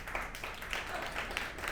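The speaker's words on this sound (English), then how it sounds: "There's some like happy clap, but there's also some like shameful clapping." A live stand-up comedy crowd claps in a faint, scattered, uneven patter that carries through the whole stretch, thin and distant rather than a full ovation.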